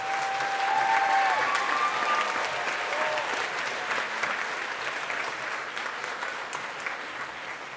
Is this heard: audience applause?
yes